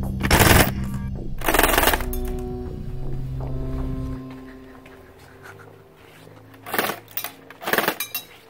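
Custom Tokyo Marui Super AUG airsoft gun with Nitro V6 keymod rail firing short rapid bursts, loud mechanical rattling at the start and again near the end, with quieter handling sounds in between.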